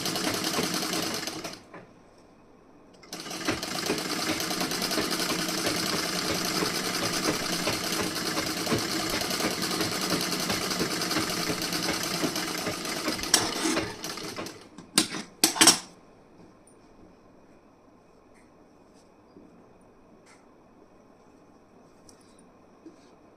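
A sewing machine stitching blouse fabric whirs in a fast, close, rhythmic rattle. It makes a short burst, pauses, then runs steadily for about ten seconds, and a few brief spurts follow before it falls quiet.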